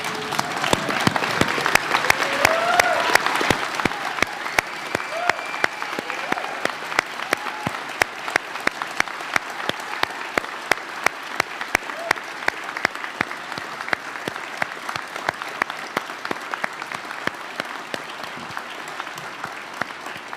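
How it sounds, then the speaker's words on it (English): Graduation audience at the 2024 Catlin Gabel School ceremony applauds a graduate, a dense wash of clapping that swells loud early, then thins into scattered, steady claps continuing for about twenty seconds. "please stand up and give Aline a round of applause"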